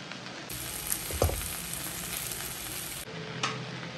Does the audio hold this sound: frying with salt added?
yes